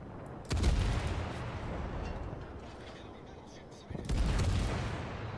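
Battleship guns fire in World of Warships as two heavy, rumbling booms, each followed by a long rolling tail of explosion noise, loud and close with a pause between them.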